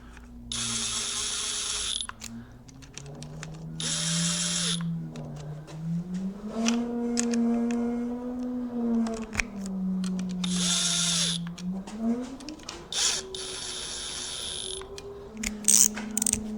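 A power driver runs down bolts on a 1977 Johnson 9.9 outboard motor. Several close whirring bursts rise and fall in pitch, separated by short pauses with light mechanical clicks.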